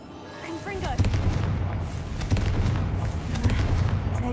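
A Confringo blasting spell from Hogwarts Legacy sets off repeated booming blasts and crackling impacts over a rumbling game soundscape, several heavy hits spread across a few seconds.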